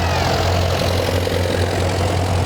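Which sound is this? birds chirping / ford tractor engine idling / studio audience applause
ford tractor engine idling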